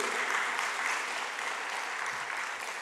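Congregation applauding God during a Korean Sunday church service, a steady wash of clapping from many hands that holds evenly and then tapers slightly toward the end.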